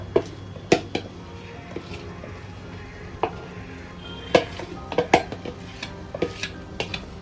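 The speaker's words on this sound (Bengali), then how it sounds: "নাড়াচাড়া করে আমি চিংড়িগুলো দিয়ে দিলাম।" Prawns are stirred in oil in a pan for a Bengali malai curry: irregular sharp metallic clinks and scrapes of a utensil against the pan over a faint sizzle, some strikes close together, others spaced out.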